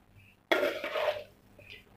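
Macaroni fruit salad with coconut gel, red and green kaong and mixed fruit being stirred in a bowl: a sudden clattering scrape of utensil against the dish, then a softer rustling mix, brief and close.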